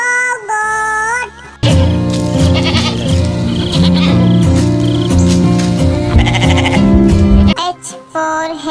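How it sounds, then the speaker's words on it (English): A goat bleats with a wavering cry at the start of a cartoon alphabet song for kids, then bouncy music takes over loudly. "G for goat."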